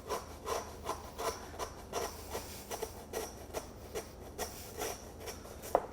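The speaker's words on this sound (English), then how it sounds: "So you start, you can hear that sawing." A hand saw cuts through the bone of a best end rack of lamb in a kitchen, giving a steady rhythmic back-and-forth rasp of about a dozen close strokes, with no talk.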